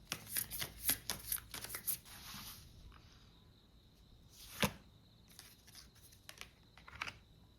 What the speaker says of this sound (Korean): 카드를 한 장만 더 뽑아보도록 할게요